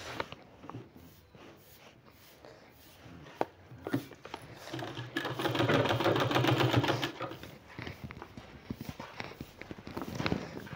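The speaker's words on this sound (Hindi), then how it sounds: "अब दूसरे साइड भी हमको फिर से एक प्लेट और इस तरह से लेना है और इसी तरह से हमको सिलाई लगाना है" Sewing machine stitching a sleeve for a new sleeve design, running in bursts with a louder sustained stretch of whirring and clatter in the middle, close and fairly loud, no talking.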